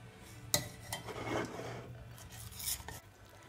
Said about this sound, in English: Add my remaining milk. And you're just gonna mix it so everything will all combine.